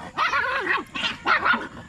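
A dog gives a few close, whiny yelping barks in quick succession, two short clusters with a brief pause between.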